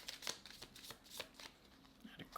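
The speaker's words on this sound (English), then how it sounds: "Let's start shuffling for you." Tarot cards being shuffled up close, a quick run of crisp riffling bursts and soft slaps repeating across the clip at low volume, with no voice over them.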